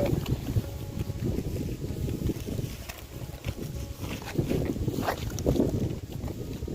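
Strong, steady wind gusting against the microphone outdoors, a continuous low roar with rustling surges and no clear speech.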